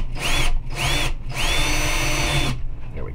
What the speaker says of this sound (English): I may just drill down into that bridge a little bit